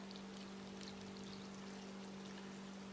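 Water pours steadily into a regular-size boiling pot of turnips, a continuous soft splashing stream, fairly quiet, with no talk over it.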